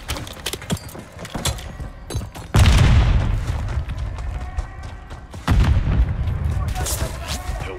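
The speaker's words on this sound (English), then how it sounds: "Felt my explosion over here, Six." Booming explosions from Call of Duty: Modern Warfare III gameplay, two heavy rumbling blasts that roll on and fade, among scattered gunfire clicks and game sounds.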